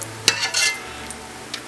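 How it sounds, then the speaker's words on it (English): Crispy bacon being lifted out of a hot pan, with a steady close sizzle and a few brief utensil scrapes and taps against the pan. "The bacon is pretty much cooked up into crispy pieces. I'm going to take the bacon out."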